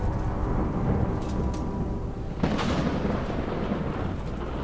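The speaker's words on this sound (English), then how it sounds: "a peal of thunder shatters the stillness, followed by a howling wind that shakes the tower to its foundations" A deep rumbling peal of thunder with a sudden crack partway through, over a constant roaring wind from the game Warhammer: Chaosbane, loud and dense with no speech.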